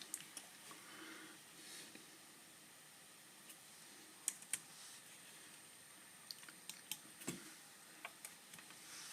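Sparse clicks of keys being tapped on a computer keyboard, irregular single presses and short clusters, quiet and close over a faint hiss with no talking.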